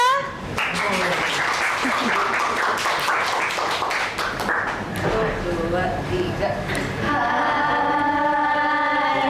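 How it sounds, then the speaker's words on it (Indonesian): An audience claps before a dance performance at a religious study gathering, steady applause filling the space for several seconds, with voices and music-like tones rising underneath toward the end. "Beri tepuk tangannya."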